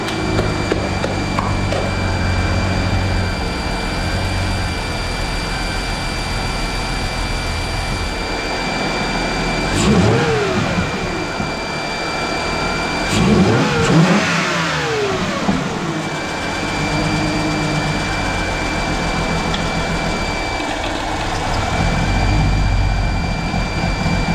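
A Chrysler Crossfire engine converted to run on ethanol drones steadily at close range, then swells through two distinct revving surges as the car drives. No one speaks.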